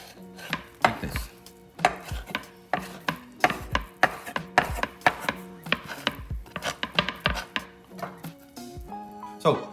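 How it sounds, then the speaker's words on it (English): A knife chops ahi tuna into cubes on a cutting board for poke, giving a steady run of sharp, close taps through the whole stretch with no talking. "Cut it in straight first, just like this, then into cubes in the middle."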